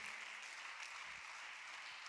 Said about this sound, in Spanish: ¿Le pueden dar un aplauso al Señor, por favor?